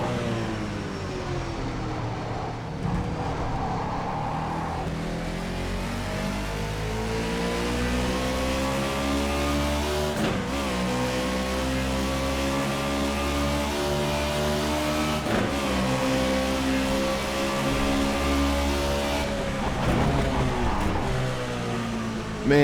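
Race car engine in rFactor 2 drones steadily at high revs for the whole stretch, its pitch climbing and falling as the car brakes, downshifts and accelerates through corners, loud and up close with no talk.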